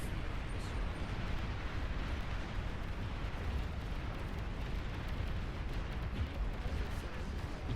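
Bombers crashing and exploding on the ground in Beyond All Reason, a dense continuous rumble of overlapping blasts and booms at steady loudness.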